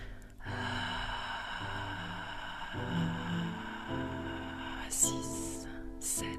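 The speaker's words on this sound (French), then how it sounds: "Et sur 8, expire." A slow, drawn-out exhale through the nose during a guided breathing exercise, heard as a long soft airy breath under steady tonal background music, ending with a few brief higher sounds near the close.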